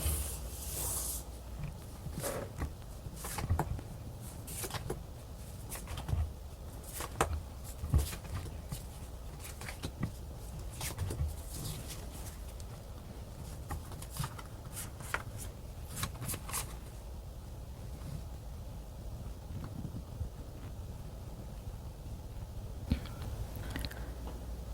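Tarot cards shuffled and drawn by hand, with crisp flicks, slaps and soft riffling taps scattered irregularly through a quiet room, close and moderately loud, with no talking.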